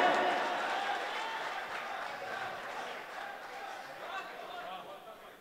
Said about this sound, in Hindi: ताली बजाकर इस्तकबाल करें